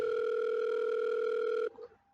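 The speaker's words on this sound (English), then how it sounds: "The ringing sound of the phone echoed across the cramped space through the car's speaker" Phone ringing through a car speaker as a video game sound effect: a steady, loud electronic ring tone held for about a second and a half, then cutting off abruptly into faint residual noise.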